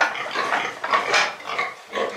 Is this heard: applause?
no